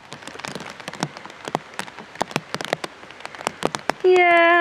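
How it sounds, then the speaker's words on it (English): Heavy rain on an allotment, scattered sharp drops pattering close by with steady hiss beneath, ending in a sudden loud tonal sound. "It's raining a lot."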